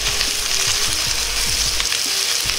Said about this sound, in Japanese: もやしを入れたら肉の上に包めるように広げ肉を蒸し焼きにするようにします